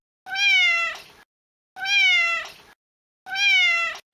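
A cat meows three times in an even rhythm, each call clear, close and about a second long, with silent gaps between.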